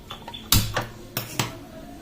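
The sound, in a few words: wok (kadai) being placed and handled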